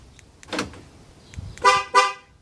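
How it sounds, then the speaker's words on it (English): A Ford F-150 horn gives two short, loud honks as an alarm warning that a door is open, preceded by faint clicks and a soft thump. "you get 2 honks because the door is open"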